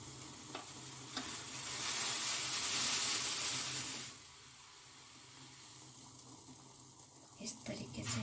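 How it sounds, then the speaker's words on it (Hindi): A herbal kadha decoction bubbling on a gas stove gives a steady hissing, sizzling roar that swells and then drops away as the flame changes, with faint clinks near the end. "देख रहे हैं कि अच्छे से खोल रहा है और इसको थोड़ा सा हम गैस तेज करेंगे"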